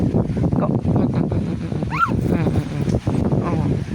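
A dog lets out a rising, high-pitched whimper midway through, amid a steady stream of nearby talking and some wind noise.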